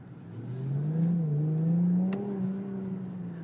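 A 400-horsepower Infiniti Q60 Red Sport 400 engine heard from inside the car, a steady low hum that swells slightly mid-clip then settles, with no talk over it.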